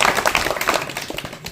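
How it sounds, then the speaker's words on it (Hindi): Villagers clapping together at an outdoor gathering on a liquor ban, a brief burst of loud, close, rapid hand claps that thins out quickly. "हम सबको बजा तालियां"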